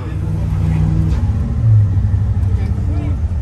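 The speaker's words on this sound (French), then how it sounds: "C'est un gros moteur V8." A deep, rumbling V8 engine in a BMW E36 idles and swells briefly in a low throaty rev, steady and close throughout.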